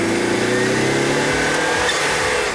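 A sports car engine revs and burbles close by during a spirited drive on a winding road, a steady sustained drone with rising tones, loud and continuous with no talk.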